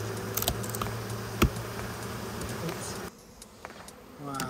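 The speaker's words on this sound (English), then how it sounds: "Thousands of bees." Thousands of honeybees swarm inside a hive built into a roof in early spring, producing a dense, continuous close-up buzz that drops briefly in loudness before swelling again.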